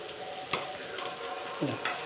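Snack frying in a pan with a soft, steady sizzle, interrupted by a few sharp clicks and a light scraping stir as the pieces are turned; quiet and close, with no talking.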